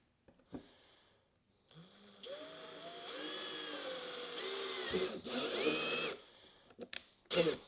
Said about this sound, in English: you're gonna use the hole saw to cut out a giant hole